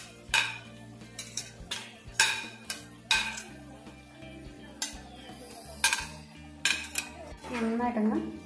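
A spoon stirs pork and capsicum in a pan, giving repeated sharp metallic clanks and scrapes at an irregular rhythm over a faint background hum.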